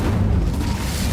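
A fire spell cast in Hogwarts Legacy, played on Nintendo Switch, gives a loud, sustained low boom with a rumbling burst that fills the whole moment without any talk.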